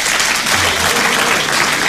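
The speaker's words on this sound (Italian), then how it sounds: "Un applauso a Sam, allora" Audience applause at a band event, a steady, loud wash of many hands clapping, dense and close, without pauses.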